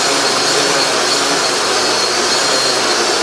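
The electric motors of a model aircraft run during a ground test, one motor on the right side faltering. They give a loud, steady, close-up whir and rush with no pauses.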